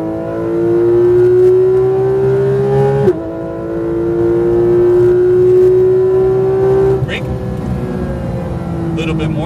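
Porsche GT3 RS engine pulling hard on a race track, a loud steady rising drone with a brief lift around three seconds and again near seven, while an instructor talks over it from inside the car.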